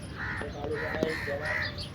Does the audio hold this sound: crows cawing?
yes